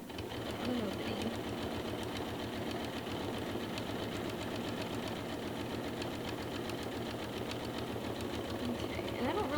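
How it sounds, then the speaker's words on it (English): A sewing machine stitches a fabric envelope-style cover closed, a steady, rapid mechanical chatter running continuously at close range with an even rhythm throughout. "I can sew the whole thing shut because it does have the envelope closure"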